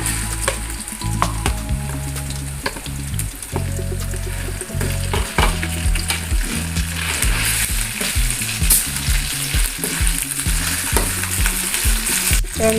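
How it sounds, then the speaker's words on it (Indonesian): Chili and spice paste sautés in a pan for gulai kikil, a loud continuous sizzle and crackle with frequent stirring scrapes and clinks close up. "Kita tumis sampai wangi ya Bunda"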